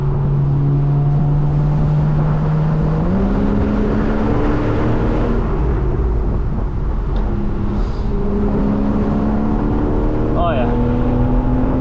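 A 2013 Porsche 911 Carrera S Cabriolet engine pulls hard through its mid-range, the steady loud drone climbing in pitch after a gear change as the car accelerates, heard from inside the car with a short spoken remark over it.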